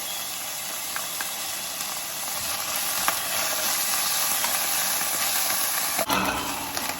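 Chopped garlic and minced ginger sizzling steadily in a hot pan for keto cooking, a close continuous frying hiss with a few utensil knocks and a brief stir near the end.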